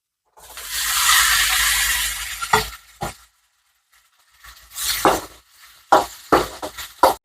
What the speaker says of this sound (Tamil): அடுத்து நம்ம வெட்டி வச்ச தக்காளியை போட்டுக்கலாம்